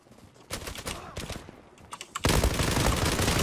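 Gunfire in the online shooter Zula opens with scattered single and rapid bursts. It then becomes a loud, sustained automatic volley close by.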